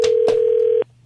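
Telephone line tone while a call is placed to a contest winner: a loud steady single-pitch tone with two short clicks, cutting off abruptly after under a second into low hum.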